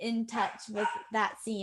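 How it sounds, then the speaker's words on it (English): A dog barks in the background while a person talks over it, several bursts coming in quick succession underneath the voice. "I'm sorry about the barking dog in the background."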